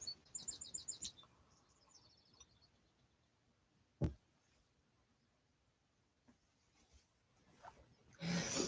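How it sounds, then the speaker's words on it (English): Birds chirping outdoors on a warm summer day, a quick burst of high bright tweets at the start, then faint scattered calls with a sharp knock partway through. "Can you hear the birds?"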